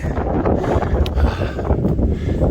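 Steady wind buffeting the microphone on an Appalachian Trail mountain climb toward Lake of the Clouds, a continuous low roaring rush with slight gusting, close and fairly loud, no voices.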